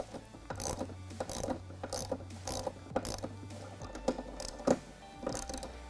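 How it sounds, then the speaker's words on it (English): End clamps on rooftop solar panel rails are tightened with a ratchet, producing repeated bursts of quick clicking with short pauses between strokes, close and fairly quiet. "we are going to go ahead and tighten down our end clamps"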